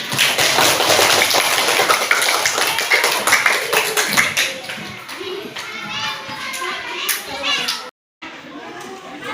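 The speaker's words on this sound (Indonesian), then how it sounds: "Ya, tepuk tangan dulu semuanya." A classroom of children in an Islamic school lesson clapping together, dense and lively, mixed with children's chatter and playful noise, briefly cut to silence near the end before resuming.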